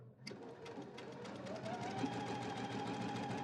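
A sewing machine runs steadily while stitching a child's faux leather crossbody bag, with a short tap at the start before the motor hums continuously at close range, alone without talk.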